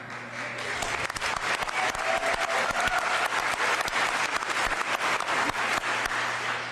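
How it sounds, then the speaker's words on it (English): An audience at the Texas State of the State address breaks into sustained applause, dense clapping from a large crowd that swells and holds steady for several seconds. "it was the taxpayers applauding that"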